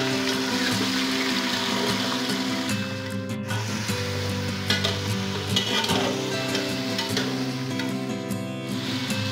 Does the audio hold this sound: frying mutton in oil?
yes